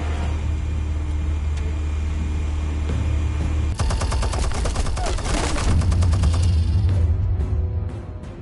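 Weapons open fire in the Batman Telltale video game after explosives are armed, a dense rapid clatter of gunshots erupting over a low engine-like rumble and continuing loudly to the end.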